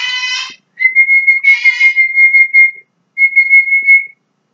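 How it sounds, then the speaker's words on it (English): A pet bird whistles clear, steady tones in several sustained phrases with short gaps, fairly loud and alone, with no talk over it. "you can hear my bird in the background"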